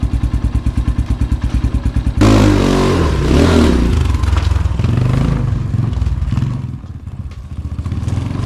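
A 2024 Xpro Titan dirt bike idles with a rapid, even chug, then revs up and pulls away with clattering and rising engine roar that fades as it rides off.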